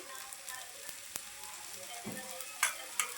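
Ridge gourd slices roasting crisp in a pan give a soft, continuous sizzle with a few faint clicks and scrapes, quiet and close, with no talking.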